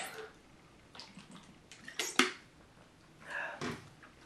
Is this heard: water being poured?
yes